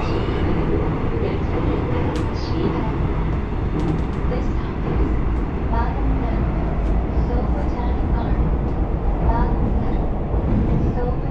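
A train runs with a steady, loud, close rumble that fills the whole stretch, and faint voices sit underneath.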